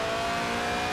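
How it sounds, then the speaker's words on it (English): A mid-engined, rear-wheel-drive 1990s Lotus Elise roadster in Forza Horizon 4 holds a loud, steady, high engine howl at sustained revs while drifting sideways. "the Lotus Elise, a 90s classic based on the age-old roadster recipe. 2 seats, engine in the middle, rear-wheel drive."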